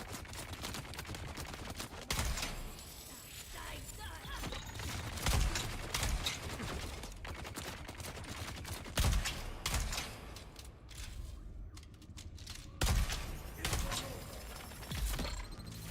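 Gunfire in the video game Dune Awakening, a chaotic run of sharp shots and bursts over a steady noisy bed, with louder cracks around the middle and near the end.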